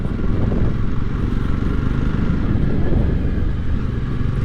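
Jawa Perak motorcycle ridden slowly on an evening ride while shifting through the gears, its engine a loud, continuous close drone mixed with wind rush, with no talk.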